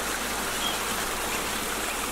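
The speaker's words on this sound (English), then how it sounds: "The sound of water" Water flowing outdoors in a natural setting makes a steady, even rush of broadband hiss that stays constant throughout, with no voices.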